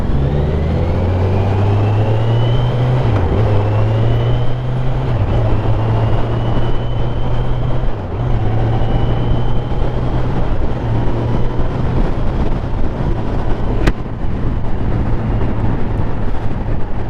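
Kawasaki Z900 motorcycle riding at low speed: a steady, loud engine drone with strong wind rumble, the pitch dropping briefly at several gear shifts, no talking.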